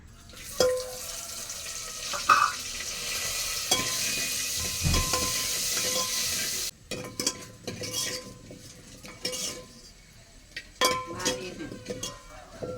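Sliced onion and spices sizzle steadily in hot oil for about seven seconds, with occasional scrapes and clinks of a stirring spoon against the pan, then quieter intermittent stirring and utensil knocks.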